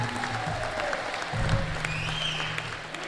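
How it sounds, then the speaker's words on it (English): Audience applause fills a sports hall of fame induction ceremony, a steady crowd clapping that swells briefly in the middle and carries on throughout without voices. "Please give him a big round of applause."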